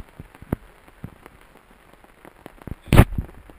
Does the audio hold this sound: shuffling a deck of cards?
no